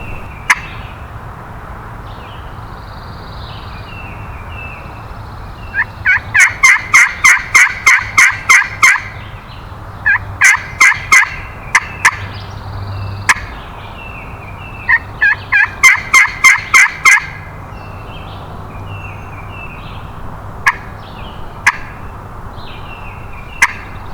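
A wild turkey gobbles repeatedly during a spring turkey hunt, loud rapid bursts coming in several clusters over steady outdoor background noise, with no talking.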